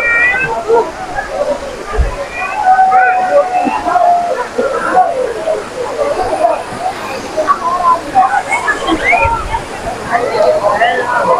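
Kashmir waterfall pours in a steady, broad rush of splashing water, continuous and fairly close, with voices and birdlike chirps faintly mixed in.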